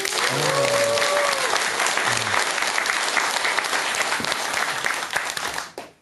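A crowd at a Buddhist dharma talk bursts into loud, sustained applause, a dense wash of clapping that fades out at the end, with a brief voice at the start.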